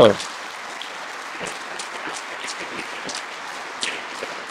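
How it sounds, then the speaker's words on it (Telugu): A classroom audience claps in thanks for a woman teacher, a dense, even burst of applause that starts abruptly and carries on steadily at moderate loudness. "సో మేడంకి మరి కృతజ్ఞతగా గట్టిగా చప్పట్లు కొట్టాలో"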